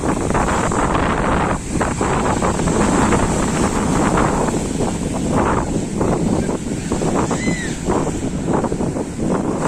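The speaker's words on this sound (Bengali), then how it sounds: "সমুদ্রে এরকম উত্তাল তাণ্ডব বা বড় বড় ঢেউ তোমরা দেখতে পাবে" Big, rough waves surge onto Shankarpur beach on a stormy new-moon day. The sound is a loud, continuous roar of surf with heavy wind buffeting throughout.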